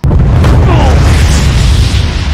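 A heavy, booming explosion in a video game, loud and close, starting sharply and rumbling on with a long low roar that fades slowly over a couple of seconds.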